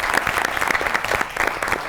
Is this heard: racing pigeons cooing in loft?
no